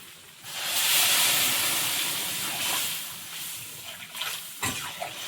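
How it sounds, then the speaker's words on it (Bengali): Water poured into a hot pan of fried potatoes with cumin and spices bursts into a loud, steamy hiss that swells quickly and then slowly settles into a softer sizzle with a few pops near the end. "এবারে জলটা দিয়ে দেবো"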